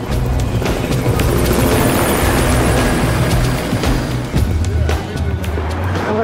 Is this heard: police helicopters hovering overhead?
yes